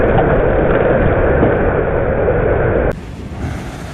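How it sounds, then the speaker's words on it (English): Steady roar of surf and crashing ocean waves at San Sebastián, Spain, then drops abruptly to a quieter wash with wind noise near the end. "The waves here are up all year round, reaching almost 18 feet in height"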